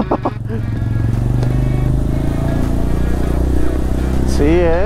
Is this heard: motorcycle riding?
yes